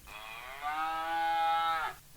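A single cow moos once, a clear drawn-out bellow lasting nearly two seconds that swells in the middle and then cuts off, heard alone and fairly close.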